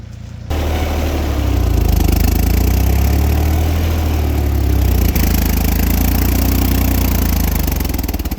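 An old farm tractor engine on a Missouri Ozarks farm, kicking into life and then running with a loud, steady throb close by, with no voices over it.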